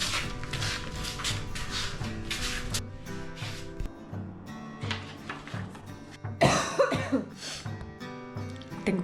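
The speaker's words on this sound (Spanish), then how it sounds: "Tengo que quitarme esta tos para la próxima semana." Repeated coughing over a steady tonal background, with a harsher, louder burst of coughs near the end.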